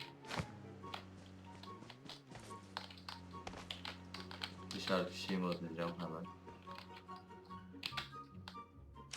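Keys pressed on a computer keyboard during a mobile shooter session, a run of sharp, irregular clicks and taps close by, with someone speaking briefly over them and a low steady tone underneath.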